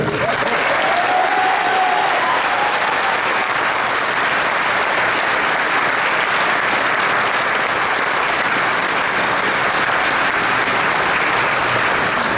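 A large stadium crowd at Petco Park applauds and cheers the Padres players continuously, a dense roar of clapping that stays loud and steady throughout.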